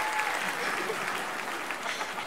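An audience at a song contest applauds in reply to the singer's question, a brief, even patter of clapping from a crowd.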